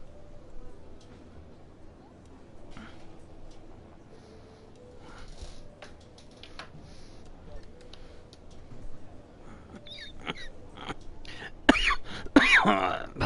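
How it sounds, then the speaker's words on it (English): A man coughs and clears his throat a few times, short sharp bursts near the end after quieter stretches with faint ticking, during an F1 2017 Renault career game session. "still got a bit of a cough happening there"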